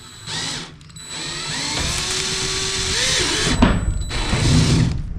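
A power drill drives screws into plasterboard while a wall is being built in a small battery room, its motor whining steadily and loudly at close range for several seconds, rising under load before stopping.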